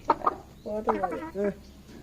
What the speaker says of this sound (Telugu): అడవి కోడినట్టుంది అది